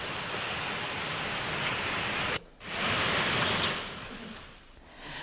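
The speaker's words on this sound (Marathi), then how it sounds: "मान्सूनपूर्व पावसाने शेतकऱ्यांचं कोट्यावधीचं नुकसान झालंय." Heavy pre-monsoon rain pours down as a steady, dense roar with no voices, broken by a brief near-silent dip midway before the downpour resumes at full strength.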